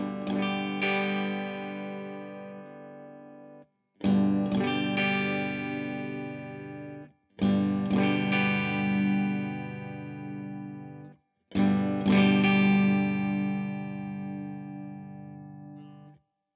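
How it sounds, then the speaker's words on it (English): Laney Lionheart L20H all-tube guitar amp playing four sustained distorted chords, each ringing about three seconds with short gaps, as the bass EQ is swept; no talk. "I'm gonna sweep through the bass, then the mid, then the treble, so you can see how much of an effect it has."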